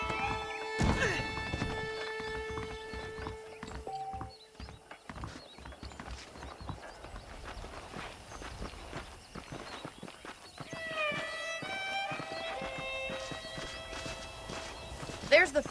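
Horse hooves clip-clop under a rider in a Western ranch setting, a steady walking rhythm mixed with game music and occasional thuds, with someone talking over it.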